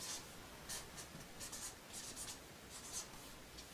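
Pen strokes scratching across paper, a series of short, close, quiet scribbling bursts in an irregular rhythm.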